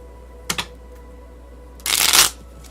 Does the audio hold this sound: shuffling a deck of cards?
yes